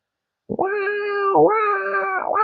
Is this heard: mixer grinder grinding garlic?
no